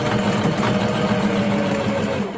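A home sewing machine stitches a small sachet deodorizer bag, its motor running with a steady, even mechanical whir and rapid needle rhythm, close and continuous throughout, no talking.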